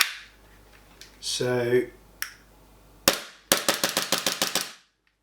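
WE Glock 19 Gen 5 green gas airsoft pistol firing with no BBs loaded, a single sharp crack followed by a quick string of about ten snappy shots, close and loud, with brief talk earlier.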